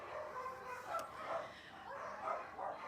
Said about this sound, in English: now it's totally crazy because the dogs are barking